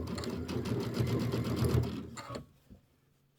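A home sewing machine stitches quilt pieces together in a close, steady whirring run of rapid needle strokes for over two seconds, then stops, leaving near silence.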